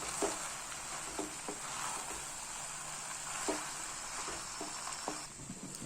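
Boiled pasta is stirred into a masala in a pan, a soft sizzle running throughout, broken by scattered spoon scrapes and light knocks against the pan at uneven intervals.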